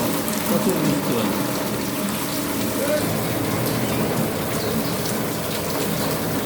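A downpour of heavy rain in Ashulia's Jamgora Mollah Bazar, Dhaka: loud, constant roaring patter of drops on roofs and ground, even in level throughout, with no talking.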